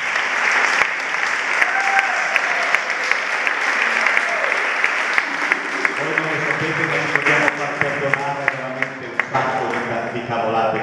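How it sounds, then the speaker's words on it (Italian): An audience applauds warmly throughout, dense clapping that fades somewhat toward the end as a few voices and faint music come through. "vorrei veramente un grande applauso ancora prima di iniziare questo brano"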